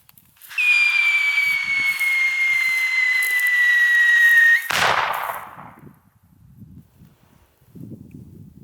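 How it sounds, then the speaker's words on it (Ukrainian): An M115A2 artillery simulator charge gives a loud, steady descending whistle that shrieks for about four seconds, then ends in a sharp firecracker-like bang, followed by faint rustling. "свистить доволі переконливо. Але бахнуло, ну, як пітарда"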